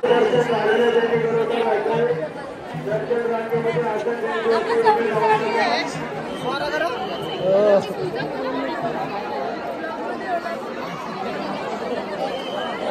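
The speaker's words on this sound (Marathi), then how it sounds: "खतरनाक क्रेझी गर्दी, क्रेझी." A dense crowd of devotees murmurs and chatters at Ekvira temple, with overlapping voices forming a steady, close wash of talk throughout.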